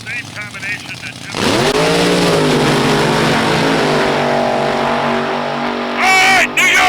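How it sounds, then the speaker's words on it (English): A drag race car with a 354 cubic inch Generation 1 Hemi engine, loud and close, bursts to life with a rising roar and holds a hard, steady howl, and an announcer talks briefly before and after the run. "A Generation 1 Hemi. 354 cubic inch Hemi."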